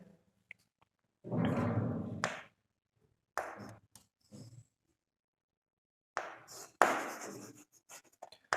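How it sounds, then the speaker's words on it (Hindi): Chalk or marker scratching across a board in a chemistry classroom, coming in several short bursts separated by pauses, close and fairly clear with no talking. "इसको लिखते हैं"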